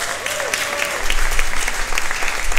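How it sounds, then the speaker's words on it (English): Applause from the audience at an annual cocktail benefit, a short burst of clapping that swells loudly after a brief quieter start. "Round of applause!"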